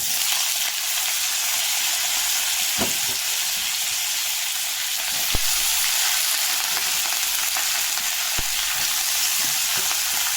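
Cauliflower and carrot fry in hot oil with bay leaf, cinnamon and cloves, giving a loud, steady sizzle throughout, broken by a few sharp clicks of a utensil against the pan.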